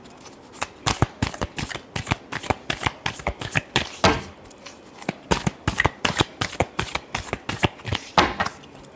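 Tarot cards shuffled by hand in a series of quick, crisp riffling flicks, each a short sharp burst, repeating in an irregular but steady rhythm close up and mostly alone, with only faint talk.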